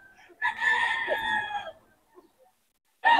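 A hatch gray gamefowl rooster crows once at a market, a loud close call lasting over a second, followed by a short pause before a second crow begins.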